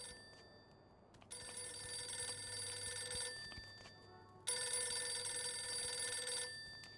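Telephone rings in the video game Mafia II Definitive Edition: two long bursts of bright, rattling bell ringing, each lasting about two seconds, separated by a short pause, over quiet background hum.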